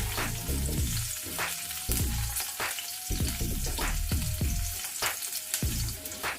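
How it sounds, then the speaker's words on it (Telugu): Garlic and chillies fry in oil over a medium flame, giving a steady crackling sizzle broken by regular scraping strokes of a spatula, close and fairly loud with no talking. "వెల్లుల్లి కొంచెం కలర్ మారే వరకు వేయించుకోవాలి."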